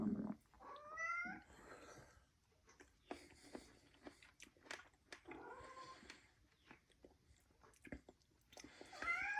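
A cat gives several quiet, close meows, with soft chewing and biting noises between them, and no voices.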